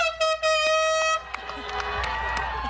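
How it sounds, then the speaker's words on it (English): Car horns blare at a drive-in concert, a long steady honk that cuts off, followed by a scatter of overlapping toots and cheering from the crowd in parked cars. "It's going to be a battle of the horns up here tonight."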